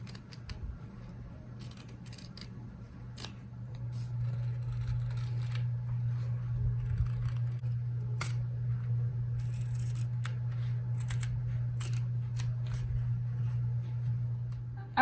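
Scissors cutting fabric for van box cushions: a run of crisp, close snips and clicks over a steady low hum of background noise.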